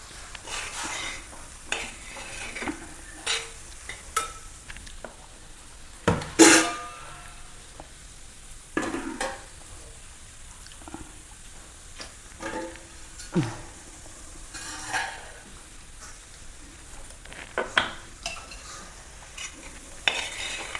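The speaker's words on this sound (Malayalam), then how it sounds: "ഇത് എല്ലാ ഭാഗത്തും ഉപ്പ് ശരിക്കും ഇളക്കി യോജിപ്പിച്ച്" Egg thoran cooking in a pan while salt is stirred through it, giving scattered scrapes and clinks of a spoon against the pan over a soft, low sizzle, with no one talking.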